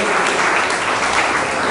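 A church congregation claps together in a dense, loud, steady burst of applause that fills the space evenly.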